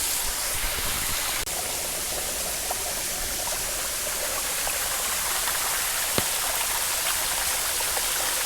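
A stream rushing among rocks with waterfalls all around, a steady broad wash of flowing water, loud and continuous with no voices.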